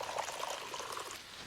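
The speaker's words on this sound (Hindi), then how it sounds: "भूनने के बाद इसमें मैंने पानी ऐड कर दिया है" Water pours steadily into a pan of fried kofta masala. The stream is a continuous splashing trickle, close and fairly soft, with no voices over it.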